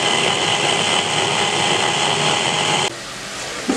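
A grinder or blender whirs loud and steady while blending onion with yogurt for chicken kofta, then cuts off abruptly near the end, leaving a quieter hum.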